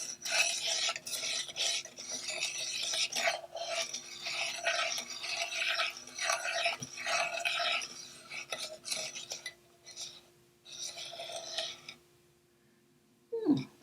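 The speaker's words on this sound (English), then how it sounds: "I'm using a whisk to try and get that all together" A whisk scrapes and clatters steadily against a mixing bowl while gingerbread batter ingredients, including salt, are beaten together, a continuous rhythmic stirring that pauses briefly near the end.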